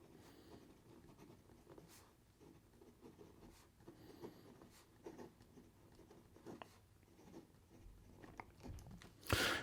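A medium-nib gold-plated fountain pen scratches softly across paper, with quiet strokes and taps in an irregular rhythm, close and faint, and one louder rustle at the very end.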